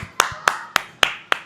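Sharp, evenly spaced hand claps, about five of them, cut through a quiet room in the dressing room of a festival where a singer is being cheered. The claps sound close and bright, with no crowd noise around them.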